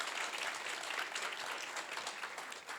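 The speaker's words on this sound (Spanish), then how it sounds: "un aplauso para todos, para los organizadores" Applause from the audience at an academic round-table on childhood asthma, a dense steady wash of many hands clapping together for the organizers, moderately distant and continuous throughout.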